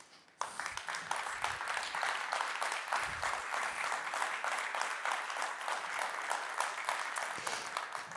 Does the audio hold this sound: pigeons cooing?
no